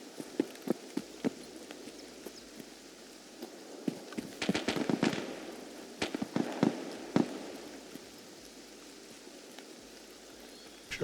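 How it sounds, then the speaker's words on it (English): Sharp gunshots in a video game crack out in scattered single bursts from more than one direction, with a cluster of louder shots in the middle, over steady background noise. "Shots are coming from both angles, which is very strange."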